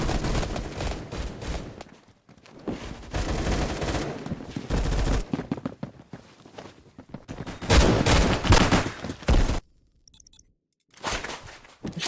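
Gunfire from weapons in Roblox Phantom Forces, including an M4 and MP412 Rex build, with loud dense bursts of rapid shots broken by short pauses and near-silent gaps.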